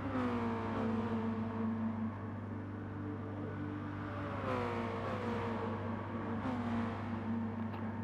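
Mazda MX-5 engines in Gran Turismo Sport during a seaside-track race: a continuous close engine drone whose pitch rises and falls with gear changes and throttle, with no voices.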